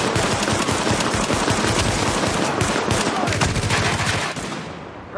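Automatic rifle fire in the Tom Clancy's The Division video game, rapid loud bursts of shots layered into a continuous barrage from several weapons, close and dense, tapering off in the final second.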